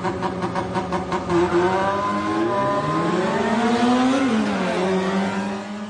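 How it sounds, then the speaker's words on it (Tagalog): Cars revving hard at night during illegal drag racing on Marcos Highway in Pasig, a loud engine pulsing in quick bursts and then a long rising and falling rev as a car pulls away, with no talk over it. "Ang maingay na revolusyon ng selinyador ng mga kotse sa 10 oras pa naman ng gabi"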